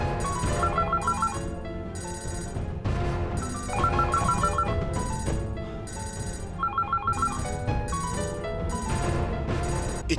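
Mobile phone ringing in repeated bursts of a bright musical ringtone, each phrase a few seconds long with short gaps between, loud and close, no talk.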